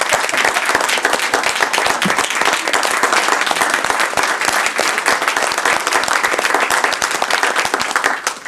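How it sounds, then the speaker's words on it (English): Sustained applause from the audience at a municipal board meeting honoring Peter Voss, dense steady clapping that fills the room evenly for several seconds before tapering at the end. "If you'd like to join me in a round of applause for Peter Voss."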